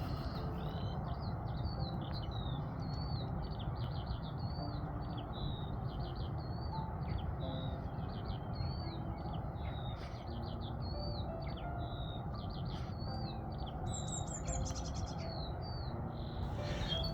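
Many birds chirping and trilling in repeated bright phrases in a cottage garden on an early summer morning, over a steady outdoor background hum, continuous and fairly close throughout.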